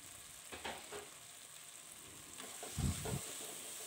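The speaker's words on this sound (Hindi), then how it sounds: "पहले 5 मिनट के लिए बगैर सब्जियों के पकाना है और सब्जियां डाल के मज़ीद इसको ढक के 3 मिनट के लिए पका लेंगे।" Chicken and vegetables for a fajita pizza topping frying in a pan, a soft continuous sizzle with faint stirring and scraping thuds near the end, no talking.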